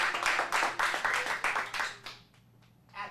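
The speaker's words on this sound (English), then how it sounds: "Big round of applause for our final scene." A small group in a kids' acting class claps for about two seconds, a brief burst of close hand claps that quickly dies away into a quiet room with faint movement.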